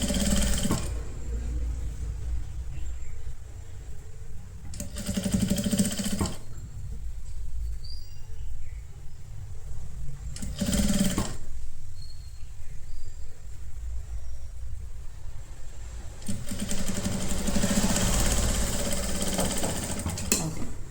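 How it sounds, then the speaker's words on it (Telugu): A sewing machine stitches a kurti neckline in a round, whirring in steady runs broken by brief pauses, close and fairly loud with no talking. "ఇట్లా రౌండ్గా కుట్టుకోవాలి."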